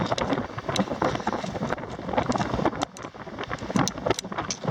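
Strong gusty wind on a mountain loop hike near Three Fingered Jack, Central Oregon, buffets the microphone in a continuous roar with sharp rustling bursts throughout.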